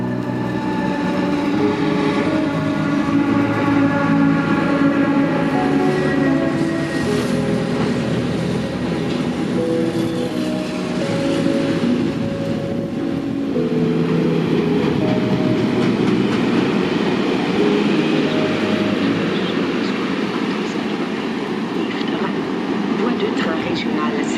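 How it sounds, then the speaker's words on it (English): A diesel freight train in Luxembourg rumbles past with a deep, growling engine and steady clattering of wagons, loud and continuous throughout. "You can hear that ferocious grunting in the distance of the engine."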